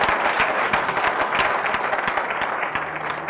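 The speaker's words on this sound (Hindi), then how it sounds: "जोरदार तालियां बजाए" Church congregation clapping loudly in praise during a Hindi-language worship service, a steady dense patter of hands with sharper individual claps standing out, sustained throughout.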